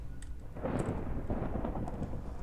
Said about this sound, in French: Waouh, c'est le méga orage.